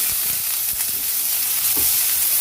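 Chopped onion sizzles steadily in hot oil with whole spices for a cauliflower and sweet potato kola gravy, a constant bright frying hiss broken by a few soft stirring scrapes, close and with no talk.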